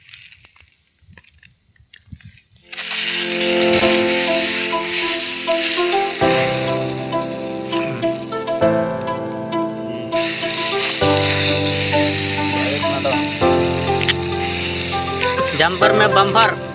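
Fish fries in hot oil with a steady, bright sizzle, largely covered by loud music with strong sustained tones after a quiet start.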